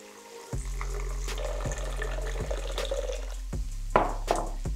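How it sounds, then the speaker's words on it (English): Water pours into a blender for a vegan artichoke dip, a splashing trickle with a low steady hum underneath and a few sharp knocks and clatters, close and fairly quiet, with no talking. "Water, straight into my blender."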